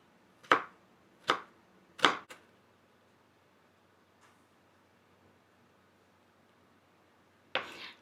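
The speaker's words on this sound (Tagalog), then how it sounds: "Next is I will mince onion." A knife mincing onion on a cutting board gives three sharp, close chops in quick succession, then a long quiet stretch, then another burst of cutting at the end.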